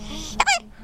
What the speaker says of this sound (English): Daddy's videoing your hiccups.